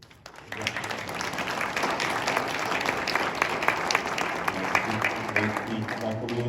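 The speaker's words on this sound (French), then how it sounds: "Je vous invite à vous applaudir." A church congregation at Holy Thursday Mass in Laval breaks into applause after a brief quiet start, with many hands clapping steadily in a reverberant hall and faint voices beneath.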